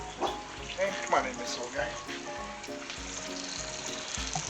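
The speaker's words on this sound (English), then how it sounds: "I'm just going to start putting it right into the fryer" Batter-coated pork pieces go into a deep fryer for black and ginger pork, giving a continuous bubbling sizzle that runs beneath someone talking.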